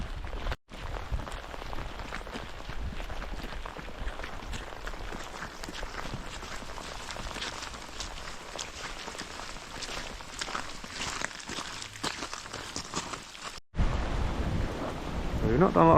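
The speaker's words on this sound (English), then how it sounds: "The rain's got a bit heavier," Heavy rain falls in a forest as a constant close patter with rough, crackling texture, broken by two brief dropouts. Footstep-like scuffs come near the end, and no one speaks.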